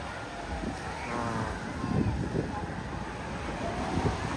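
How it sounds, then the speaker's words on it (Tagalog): Steady amihan wind roars and buffets across the microphone in a continuous rushing noise, with a low rumble beneath and no clear voices. "amihan na hangin"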